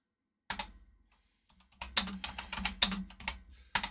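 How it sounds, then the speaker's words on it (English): Typing on a Cumana BBC Micro computer keyboard, a burst of key presses followed after a pause by a dense, rapid run of loud clacking keystrokes close to the microphone. "I love the sound of this keyboard."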